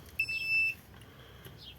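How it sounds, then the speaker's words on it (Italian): A multimeter in continuity mode, set to test a diode on a Bentel Kyo 8 alarm control panel board, gives one short, clear, steady high-pitched beep close by, followed by quiet background and small clicks. "Mettiamo in modalità cicalino"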